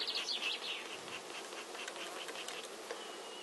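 Honey bees buzz around a hive on a fine day. A close swarm hums continuously, with individual bees whining past nearby.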